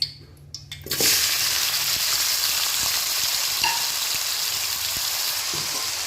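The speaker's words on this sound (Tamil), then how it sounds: "இதை லோ ஃப்ளேம்லேயே வச்சு நல்லா வதக்கிக்கலாம்." Chopped ivy gourd hits hot oil in a pan and erupts into a loud, steady sizzle that carries on evenly throughout, with a few faint clinks of stirring.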